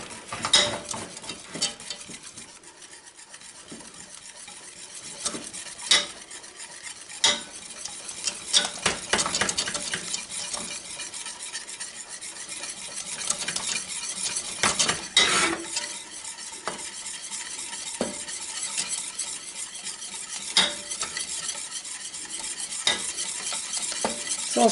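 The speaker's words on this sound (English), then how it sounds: "very slowly, while whisking, temper in my eggs" Eggs whisked by hand while being tempered into a hot salted caramel filling for a walnut pie: a steady run of quick, rhythmic scraping and light clinking strokes against the bowl, close and fairly loud, with no talk.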